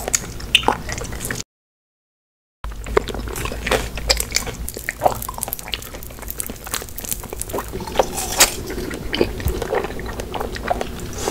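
Block jellies bitten and chewed close to the mic, with soft wet squishes and chewing sounds in an even rhythm and a brief silent gap near the start.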